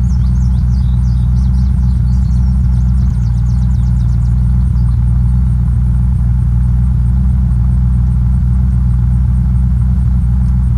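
A car engine in the video game Unturned, a loud, steady low rumble with a constant drone, running close throughout without talk.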